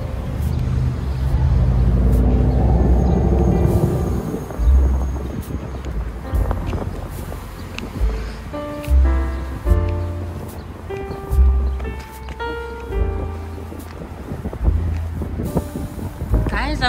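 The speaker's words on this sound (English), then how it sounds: "It is spring right now and there's a little bit of wind." Spring wind blows outdoors in rural South Africa, gusting against the microphone as low rumbling bursts that are strongest at the start and return in uneven puffs, with a voice talking over it.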